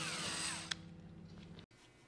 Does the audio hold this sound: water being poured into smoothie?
no